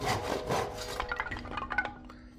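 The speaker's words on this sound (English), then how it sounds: "You carefully use the handsaw to cut down the trees." A handsaw cutting down thin trees in the video game Dark Fear, a few rough back-and-forth rasping strokes followed by lighter scraping and clinking as the cut finishes.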